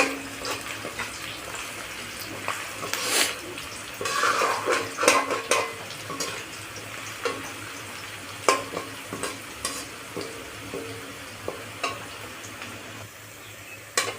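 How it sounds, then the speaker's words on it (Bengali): Onions fry in a pan with a continuous crackling sizzle, punctuated by repeated spatula scrapes and knocks against the pan, fairly close and without talk. "পেঁয়াজটাকে ভালো করে একটু ভেজে নেব"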